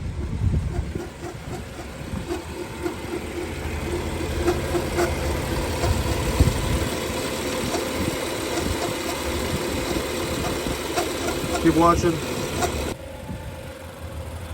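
A 2013 BMW X5 3.5i twin-turbo idles with its accessory belt removed, a steady close engine hum with light mechanical ticking, a brief voice speaking partway through and a sudden drop near the end.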